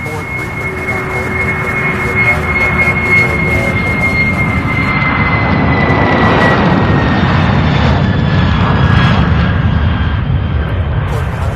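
Kalea Air jet airliner taxiing at Louisville International Airport, a loud sustained engine rumble with a steady whine that slowly shifts in pitch, and faint voices in the background.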